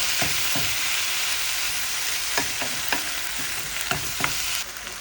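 Squid being stirred in a hot pan for adobo: a loud, dense sizzle runs throughout, punctuated by repeated thumps and scrapes of the spoon mixing, then drops slightly near the end, with no talk.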